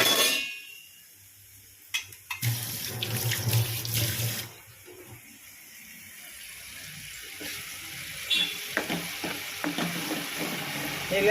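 Tap water pours and splashes into a pan of brinjal in a home kitchen during washing, in bursts and a steady run over several seconds, with some sizzling and stirring of the pan close by.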